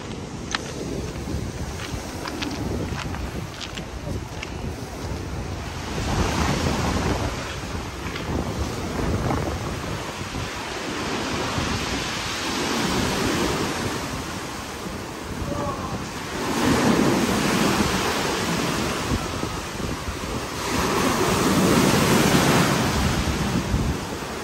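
Continuous roar of Black Sea surf at Sochi with waves swelling and breaking, wind buffeting the microphone throughout, faint voices now and then.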